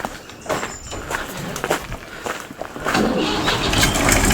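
A vehicle engine starts outdoors with a trailer hitched on, rising into a rumbling idle by the end, mixed with footsteps and handling noises nearby.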